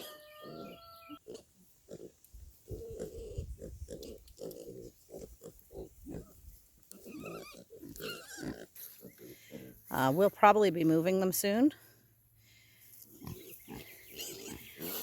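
A mother pig and piglets grunt and snort in short repeated bursts, with a louder squeal partway through, while a person talks nearby.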